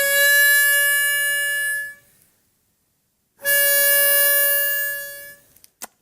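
Harmonica with a freshly fitted and tuned new reed, playing two long sustained chords, each about two seconds, with a pause between; bright and loud, rich in steady tones, ending with a few faint clicks.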